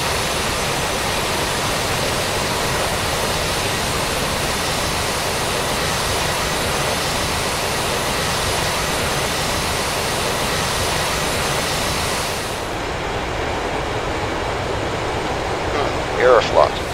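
Airliner taxiing at Kutaisi airport in a flight simulator, its jet engines giving a steady, loud broadband roar with a continuous whine that drops off sharply near the end, followed by faint brief blips.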